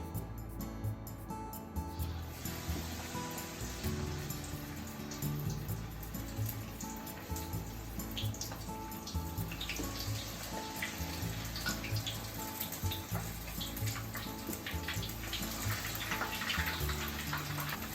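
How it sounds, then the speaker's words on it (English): Batter-dipped shrimp tempura fry in hot oil. A steady, dense bubbling sizzle continues without a break from start to finish, with no talk. "And fry them for about 2 minutes."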